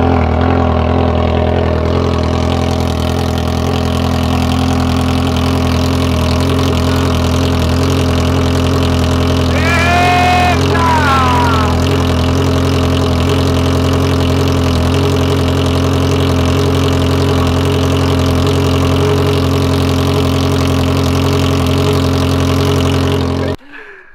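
A Honda Hornet motorcycle idles steadily and loudly up close with a deep, even engine drone for over twenty seconds, a brief whistle-like squeal near the middle, cutting off at the end.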